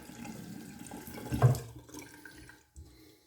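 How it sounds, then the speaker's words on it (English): Tap water runs briefly while shaving soap is lathered, a soft splashing flow peaking in a short burst then tapering off, close and fairly quiet with no talk. "I'm adding a little bit more water."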